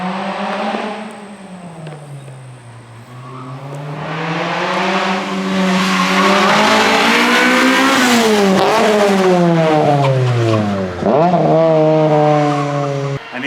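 A Honda CRX race car thrashed on track, revs climbing and dropping through gear changes, the engine loud and close with a sharp rise to a screaming peak before lifting off.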